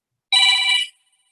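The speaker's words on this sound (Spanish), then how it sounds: "Disculpen el ruido del teléfono." A single telephone bell rings in one bright, steady burst of about half a second during a Spanish-language lecture on brain imaging, then stops into near silence.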